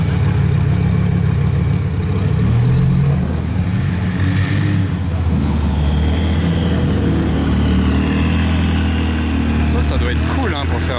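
A supercar engine runs with its exhaust valves closed at startup, a steady low rumble carrying through a street gathering of supercars for a rally, with crowd chatter and voices over it.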